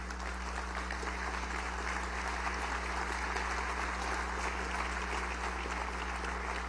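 Sustained applause fills the National Constituent Assembly chamber, a steady, even roar of many hands clapping from a large audience over a low constant hum.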